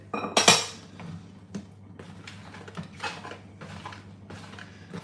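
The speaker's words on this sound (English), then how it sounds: "I've just broken the chunks up into little chunks. I'm going to add them in like that." Broken chocolate chunks tip into a bowl of sponge cake batter with a bright clatter at the start, followed by softer scattered clinks and knocks from the bowl and utensil, close and unaccompanied by talk.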